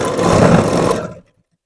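A sewing machine stitching a blouse hums in one close, loud, continuous run of about a second before it stops abruptly into silence.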